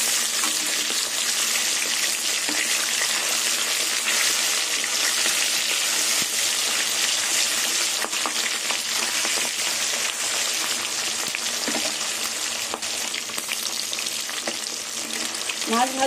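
Dhela fish fry in hot oil with a dense, loud, unbroken sizzle and spatter that holds steady throughout, close up and with no voices over it.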